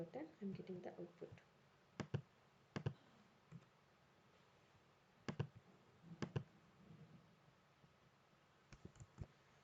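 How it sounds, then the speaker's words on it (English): Someone presses the down arrow key on a computer keyboard, giving sharp, quiet clicks in small pairs and clusters spread across a hushed room, with no talk over them. "I'm clicking this and I'm clicking the down arrow button"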